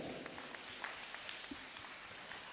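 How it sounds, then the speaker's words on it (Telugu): Faint, steady clapping from an audience at a novena service, a soft wash of many hands applauding at a distance. "ఒకసారి గట్టి క్లాప్స్ కొట్టిన గట్టిగా"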